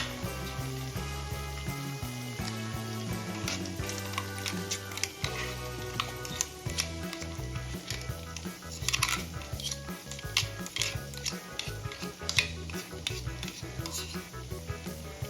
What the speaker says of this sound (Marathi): आता यामध्ये कांदा आणि दह्याची पेस्ट ॲड करून घेऊया